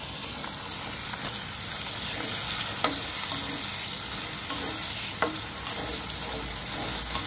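Ginger, garlic and cumin paste with salt and sour yogurt frying in a pan, a loud continuous sizzle with a few soft spatula scrapes and taps scattered through it.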